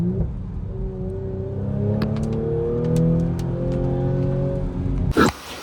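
An Audi RS4 B9 engine and exhaust rev steadily while accelerating, with a rising, rumbling drone that holds loud and close before a sharp burst near the end.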